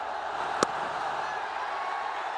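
A cricket stadium crowd cheers a Babar Azam fifty in an HBL PSL match, a broad steady roar spread far across the ground with one sharp click near the start.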